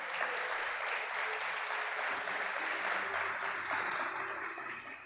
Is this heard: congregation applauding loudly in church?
yes